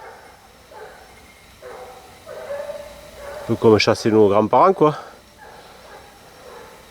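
Grand basset bleu hounds bay during a hare hunt, a brief loud burst of several overlapping howling cries in the middle, near and clear, with someone talking quietly before and after.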